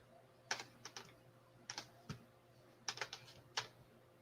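Someone types on a computer keyboard, a quiet scatter of single key clicks and short bursts separated by pauses, close and alone over a faint hum.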